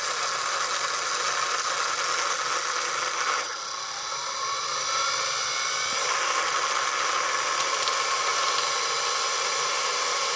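A real electric motor fitted in a 1990 Mazda MX-5 diecast model car running at full throttle gives a steady, close, high-pitched whine with a buzzy edge. It dips briefly partway through, then returns to a constant drone.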